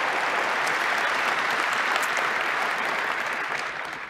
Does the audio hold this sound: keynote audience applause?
yes